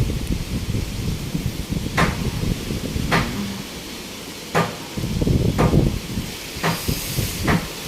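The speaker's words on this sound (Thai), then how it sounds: "เสียงลมและฝนนะคะ ที่มาเวลาพัดมานะคะ" A heavy storm of wind and rain roars steadily in Phuket, with sharper gusting bursts breaking through every second or so and a deep rumble underneath.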